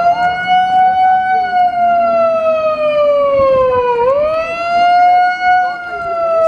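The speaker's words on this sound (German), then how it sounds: "Wie seht, die Sirenen erklingen." Sirens sound loudly outside the state police headquarters during a street protest, a sustained wailing tone that sweeps down and rises again, with faint crowd noise underneath.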